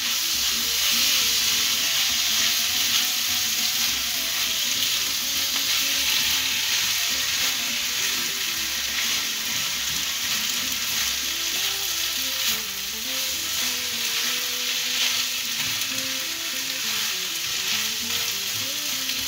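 Peppers frying in a pan with a spoonful of spicy tikka sauce give off a loud, continuous hissing sizzle that holds steady throughout, close up and uninterrupted by speech.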